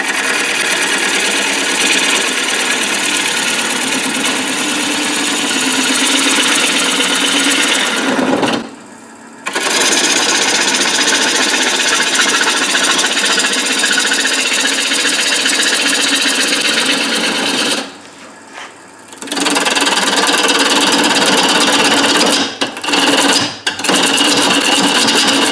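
A bowl gouge cuts a small live-edge log bowl spinning on a wood lathe, giving a loud continuous rasping scrape that stops twice for brief pauses and stutters near the end.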